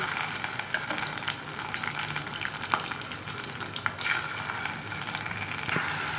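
Tempering spices with garlic, ginger, cinnamon and cloves crackle and sizzle in hot oil, a dense continuous frying hiss dotted with sharp pops and occasional stirring scrapes, heard up close.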